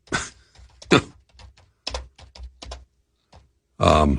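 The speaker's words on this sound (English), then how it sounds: "Furiously typing away here." Someone types on a computer keyboard during a radio talk show, with quick bursts of clicking keys in short clusters and gaps, close and fairly loud, ending in a brief louder noise.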